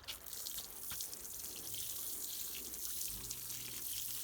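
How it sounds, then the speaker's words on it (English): Water lightly poured over freshly sown foxglove seeds in a tray, a steady close trickle and patter of liquid running continuously without pause. "I'm then going to lightly water it."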